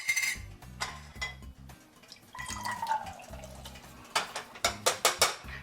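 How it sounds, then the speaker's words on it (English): Crowder peas tip and patter into a metal pot in a series of small clattering, dripping impacts, ending with a quick run of sharper taps. "we've opened up our Crowder peas here. And we're going to go ahead and get them down into the pot"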